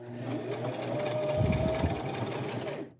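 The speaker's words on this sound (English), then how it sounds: "Then make sure my machine is set to the A on the wheel over here. And then we're going to just sew." A Brother LX 3817 sewing machine stitches a wide zigzag in place, giving a steady close mechanical whirring hum with rapid needle tapping and no talk.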